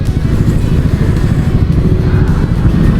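Motorcycles ride in traffic nearby, giving a loud, continuous low engine rumble with small fluctuations in level and no talking.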